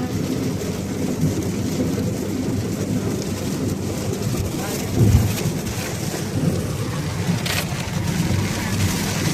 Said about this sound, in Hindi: फिर जब तक कानपुर नहीं आ गया तब तक पूरे रास्ते में बारिश ही होती रही।